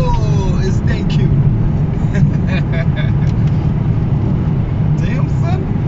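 A car's engine drones low and steady from inside the cabin as it speeds up to overtake on a South African road, with a voice talking over the rumble.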